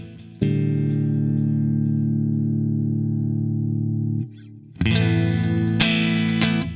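Electric guitar through a Two Notes ReVolt amp sim with gain lowered and volume raised: a long sustained chord rings for about four seconds, then a fresh strummed chord with brighter accents follows, close and loud, no speech.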